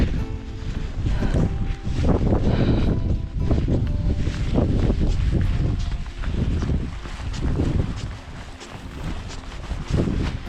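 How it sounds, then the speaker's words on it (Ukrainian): Strong, gusting wind on a cliff in Wales buffets the microphone in a steady roar, surging and easing over several seconds with faint rustling beneath. "Просто вітер."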